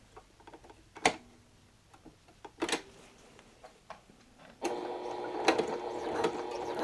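A sewing machine stitches back and forth over elastic for a fabric bowl cover: a few soft ticks and clicks give way to a steady, close mechanical whir that runs through the last couple of seconds.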